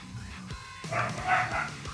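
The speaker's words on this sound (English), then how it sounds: "Sorry if you hear barking." Dogs bark from downstairs in a house, a few muffled woofs and yips spaced out over a couple of seconds at moderate distance, with some faint background noise.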